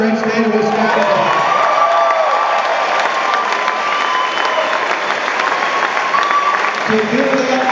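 A large political rally crowd in Waukesha, Wisconsin cheers, whoops and applauds continuously, a dense, loud wall of clapping and shouting with voices mixed throughout.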